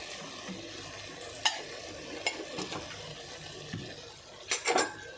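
Curry of eggplant, potato and chana dal is stirred in a cooking pan over a soft sizzle, with scattered scrapes and metallic clinks of the spoon against the pan, close and fairly quiet.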